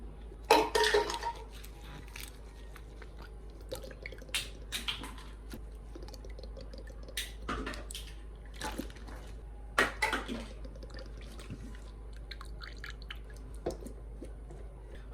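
Drops of pawpaw oil fall one at a time into a body oil mix, giving small, close taps and clinks against a container at irregular intervals over a quiet background.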